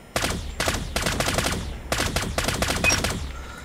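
Automatic gunfire from a gun in Call of Duty, rapid loud bursts of several shots each, separated by brief pauses, close and punchy throughout.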